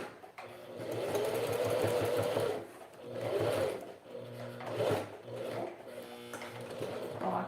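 Domestic sewing machine stitching a men's toiletry bag, running in steady whirring bursts of a couple of seconds with short pauses between, close and clear with no talk.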